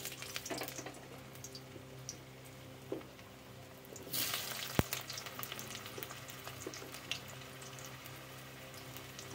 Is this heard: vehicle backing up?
no